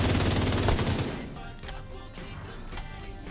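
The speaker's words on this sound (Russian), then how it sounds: "F2000 какой-то. Футуристический, надо его попробовать" A futuristic F2000 rifle in the video game The Division 2 fires a rapid, loud automatic burst in the first second, followed by scattered fainter shots and echoing game ambience.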